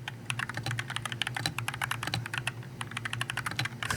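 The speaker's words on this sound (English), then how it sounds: "So he's doing a typing test right now" Fast, continuous clacking on a custom-built keyboard during a typing test, rapid keystrokes close up in an uneven flurry with no pauses and no talking.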